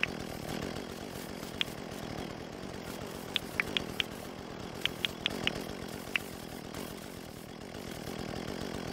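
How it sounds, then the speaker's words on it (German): A chainsaw runs steadily through trees in the farming video game Dinkum, with a continuous buzzing drone and several short sharp clicks scattered over it, moderately quiet and with no voices. "ist die Kettensäge natürlich für so ein kleines Baummassaker immer gut zu haben"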